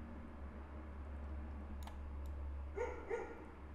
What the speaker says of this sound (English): dogs maybe instead